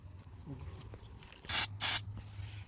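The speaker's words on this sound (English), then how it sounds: "So I'm gonna have to use a carb cleaner to clean this." Two short, loud bursts of carb cleaner spray hit a dirty engine part on a Honda CR-V with a rough idle, each hiss lasting about a quarter second, close up over a low steady engine hum.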